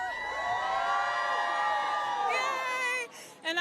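An excited crowd cheers at the Frozen 2 world premiere, a dense wash of high, shrieking voices and whoops that stays loud for about three seconds, then drops sharply before swelling again.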